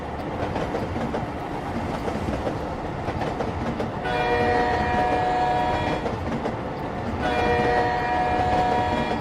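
A video game train runs steadily, with a continuous rolling rumble and rhythmic clickety-clack of wheels, joined by sustained horn-like tones that sound twice, fairly loud and close.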